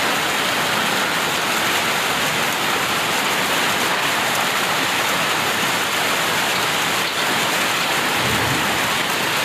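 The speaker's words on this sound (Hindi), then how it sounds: "यहाँ पर इस समय तेज बारिश, एकदम से तेज बारिश शुरू हुई है" Heavy rain pours down in Reasi in a dense, constant roar, steady and loud throughout with no voices.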